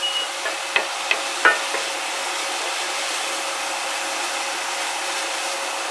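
Food being stirred in a hot pan over medium high heat: a steady broadband sizzle with a few sharp utensil clicks and scrapes near the start, close and fairly loud, no talking.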